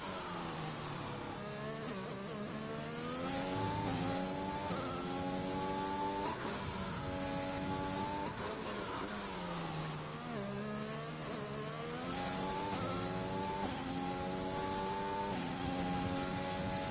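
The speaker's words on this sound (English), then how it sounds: "I'm going to let you all listen to the sound of the Williams tackling Zandvoort here on this lap for a little bit" A Williams racing car's engine at Zandvoort in a racing video game, a sustained high-revving whine with harmonics rising and dropping through gear changes and braking, loud and continuous with no talk.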